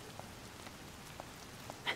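Rain in The Legend of Zelda: Tears of the Kingdom, a faint steady patter with occasional soft drops tapping on a surface, quiet and continuous, with no talking.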